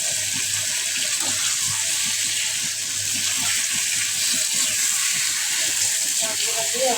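Tengra fish hit a pan of cooked-down spiced masala with tomato and then get a splash of water, giving a steady hissing sizzle and a gushing sound that fills the clip, loud and close.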